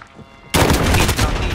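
Gunfire in Call of Duty Warzone, a loud sudden burst of rapid shots that keeps going, dense and close, after a quieter opening.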